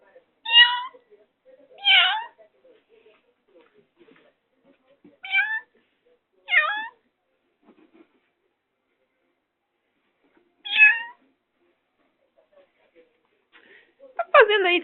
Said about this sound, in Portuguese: Ó o gato, Pumba.